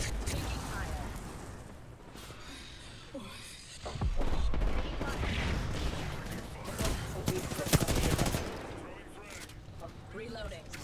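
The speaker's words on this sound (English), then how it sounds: "Opening fire." Video game gunfire crackles in dense, continuous bursts against a busy battle backdrop, moderately loud with player voices talking over it.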